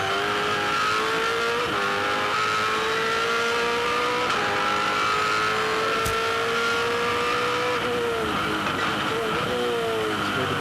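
Onboard a 2006 Holden Supercar at Bathurst on a full fuel load, the V8 drones loud and close in sixth gear, pitch sagging as the driver lifts off before the chase, with dips in revs and a brief sharp transient.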